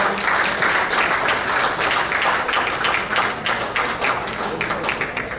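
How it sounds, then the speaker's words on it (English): A banquet-hall audience at an award night applauds an honoree, giving a sustained, dense round of clapping at steady volume that fades slightly toward the end. "Big round of applause for Mr. Amin."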